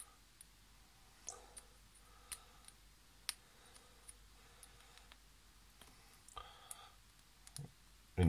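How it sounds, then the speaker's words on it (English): A metal needle pokes through the holes of a Nespresso Pixie diffuser plate, making faint, sparse clicks and ticks at irregular intervals, with a louder knock at the very end. "just use this type of needle and go through all of these holes"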